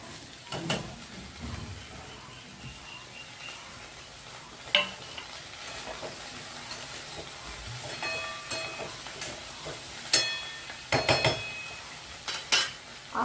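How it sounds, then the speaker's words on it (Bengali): Chopped okra goes into a pan of frying potatoes and onions, with a low sizzle beneath scattered sharp clinks and scrapes of a spoon stirring against the metal, close and intermittent. "আলু পেঁয়াজ ভাজা হয়ে গেল, কেটে রাখা ভেন্ডিটা এবার দিয়ে দিচ্ছি"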